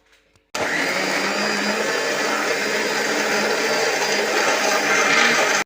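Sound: mixer blending biscuits for Sharjah shake

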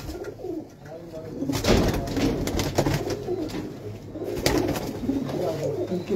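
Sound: pigeons cooing

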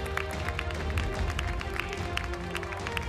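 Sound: studio audience applause

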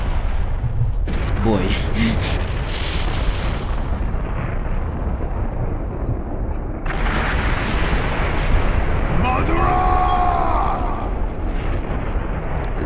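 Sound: thousand arm cannon jutsu attack, Naruto Ultimate Ninja Storm 4 video game

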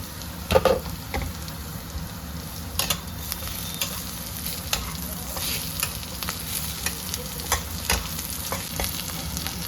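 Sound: onions frying in oil

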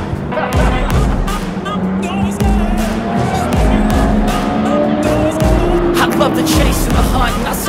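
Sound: VE SS Commodore ute doing hot laps at a race track

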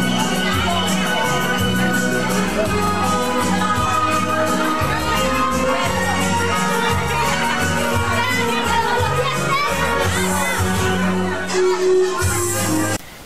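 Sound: wedding guests applauding and cheering the newlyweds

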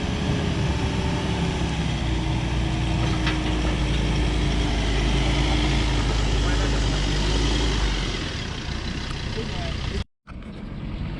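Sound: Ford Ranger 3.2 engine revving in a dirt pit

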